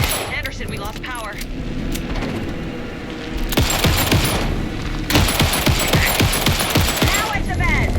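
Gunfire and impacts from a fight in the video game Alan Wake 2, loud and continuous over a dense action soundscape, with rapid bursts intensifying in the second half; voices talk over it.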